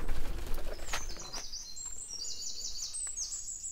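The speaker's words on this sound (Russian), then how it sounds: "Слышно, какая акустика здесь птица поет?" A songbird sings in a quiet Kislovodsk flower park, with high, clear trilling phrases repeated over soft background noise and faint trickling water, and no one speaking.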